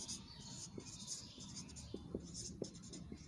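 Chalk or marker scratching on a board during a geometry lesson on area, soft continuous scraping with a few sharper taps, faint and close, with a quiet voice murmuring in the background.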